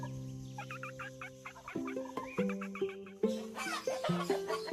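A male wild turkey gobbles and clucks in rapid, rising and falling bursts, close and fairly clear against a quiet background.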